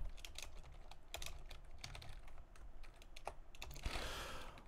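Rapid, irregular keystrokes on a computer keyboard during setup of a virtual Ubuntu web server, with steady clicking throughout and a slightly louder burst near the end, no talking.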